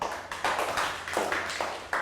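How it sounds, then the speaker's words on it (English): A Year 3 class gives a short burst of rhythmic clapping, several quick broadband claps in a row, close and fairly loud, with no talking over it. "Round of applause for down."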